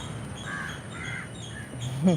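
A few crows caw at a distance in short harsh bursts over an open outdoor background in Kerala, followed by a brief closer sound at the end.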